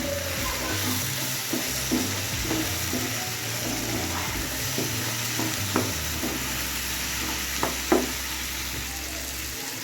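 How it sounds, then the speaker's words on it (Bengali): Spices and chillies, salted, fry in a pan for a tangra fish curry, a constant close sizzle punctuated every second or two by clacking stirs of a spoon against the pan. "নুন দিয়ে দিয়েছি। এবার এটাকে নেড়ে চেড়ে ভাজা হতে দেবো।"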